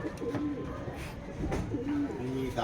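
Racing pigeons coo softly in a loft during early training, with several low, rolling coos repeated close by and a voice speaking faintly in the background.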